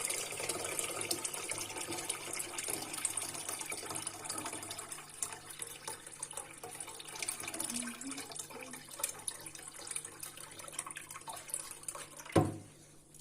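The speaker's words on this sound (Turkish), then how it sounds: "Şu anda suyunu ilave ediyorum." Water pours steadily from a tap into a pot of soaked dried wheat dough for soup, a continuous rushing splash that gradually deepens in pitch as the pot fills, ending with a short knock.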